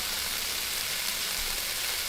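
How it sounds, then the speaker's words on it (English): Food frying in a virtual kitchen in Cooking Simulator, a steady, continuous hiss of sizzling oil that holds an even level throughout with no voices. "Listen to that sizzle."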